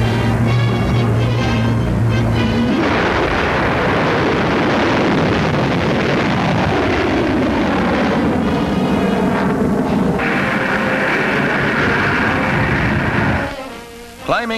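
A V-2 rocket lifts off at White Sands in 1946, a loud, sustained roar of rocket exhaust with broadband rumble that holds steady for many seconds before cutting off abruptly near the end.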